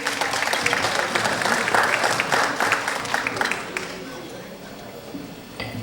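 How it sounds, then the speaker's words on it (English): A crowd applauds with dense, steady clapping that swells and then slowly tapers off toward the end. "Give her a round of applause"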